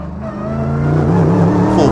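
A 2020 Mercedes-AMG GT3 race car engine on track, loud and close from inside the cockpit, rising in pitch as it accelerates hard, with a voice talking over it.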